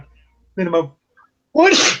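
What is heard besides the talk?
sneeze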